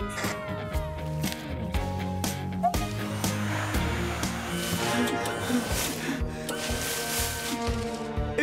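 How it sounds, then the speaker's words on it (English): Cartoon snow machines in a Bob the Builder episode start up with a dense, continuous whooshing, blowing rush. Sustained tones and a clatter of effects layer over it, and the sound stays steady and loud throughout. "I'm starting up the snow machines."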